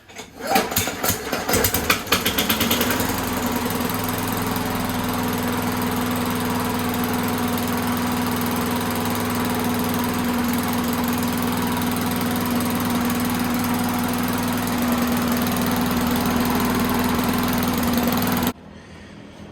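A Craftsman lawn mower engine with a Pulsajet carburetor runs at a steady idle after a few rough sputters at the start, a continuous mid-pitched drone that cuts off abruptly near the end.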